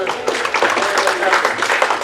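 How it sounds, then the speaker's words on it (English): Audience clapping for Jeffrey Bradbury at a conference event, a dense, steady wash of many hands that runs evenly for about two seconds, with no talk over it. "So clap for Jeff."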